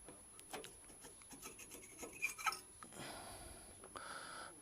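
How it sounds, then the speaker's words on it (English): A screwdriver digs and pries at a Suzuki GS1000 exhaust baffle coated in penetrating oil, giving faint, irregular scraping and rasping metal rubs, with a few sharper scratches up close and a quiet grinding scrape toward the end. "I've been digging a screwdriver in to pull it apart"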